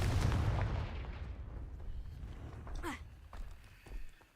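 A Confringo spell blast in a Harry Potter video game opens with a loud, booming explosion that rumbles and fades over a couple of seconds, followed by fainter thuds.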